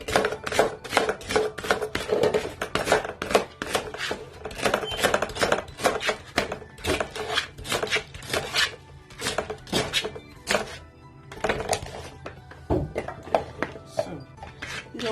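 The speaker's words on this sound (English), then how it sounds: "So I'm going to be slicing them together." Fresh fruit and vegetables sliced together for a homemade healthy lunch drink, giving a quick, steady run of crisp knife taps and thunks on a board, close and fairly loud, with short pauses.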